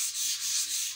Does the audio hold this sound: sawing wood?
yes